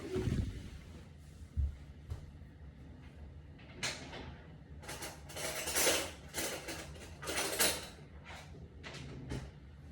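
A teaspoon scratching the coating off a game code card, a series of short rasping scrapes in irregular bursts, close and fairly soft, with a few light clicks between strokes.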